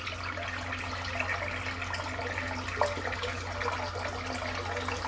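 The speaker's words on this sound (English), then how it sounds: "fill the sink up while I'm painting it" Running tap water fills a bathroom sink during a head shave, a steady continuous wash of splashing flow that stays moderately loud and unbroken throughout.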